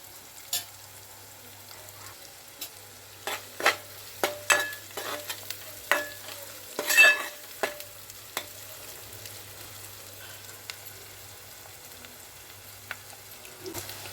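Ginger paste stirred into frying onions in a pan for a bean and tomato curry, with repeated scraping clinks of the spoon over a soft, steady sizzle and a low hum beneath.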